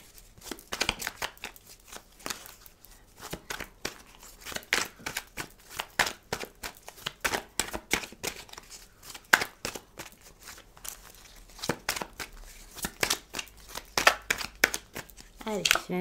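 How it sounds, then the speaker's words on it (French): Tarot cards being shuffled and flipped over, a dense, close run of quick papery slaps, riffles and crinkles that keeps going with short pauses, loud and crisp throughout. "toutes les cartes se retournent"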